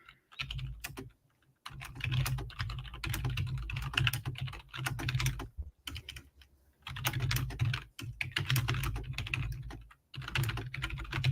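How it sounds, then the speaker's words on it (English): Rapid clicking of keys on a computer keyboard in bursts, with short pauses between flurries; close and fairly quiet, no voices. "Everybody hearing my typing?"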